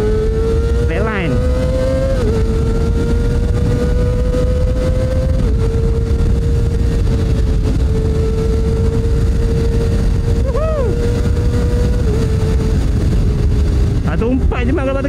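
A Kawasaki ZX25R motorcycle with a Yoshimura R-11 exhaust is ridden on the road, its high-revving engine droning loud and close throughout, rising and falling through gear changes.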